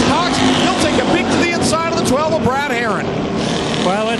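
Stock cars, a pair of Camaros chasing a Monte Carlo at a Thunderstock oval race, roar loudly with rising and falling engine whines as they pass, under continuous announcer commentary.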